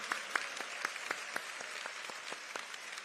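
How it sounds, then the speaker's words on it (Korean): A church congregation claps during a prayer gathering, heard as soft, distant applause with a few sharper individual claps standing out, quiet overall. "하나님 앞에 뜨거운 박수 올려드리겠습니다."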